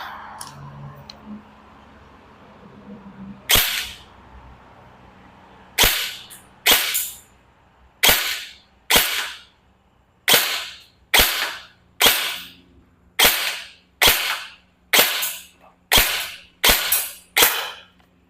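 A G&G ARP-9 electric airsoft gun fires single shots until the magazine is empty: about fifteen sharp, loud snaps at fairly steady intervals, close and alone, after a few quiet seconds.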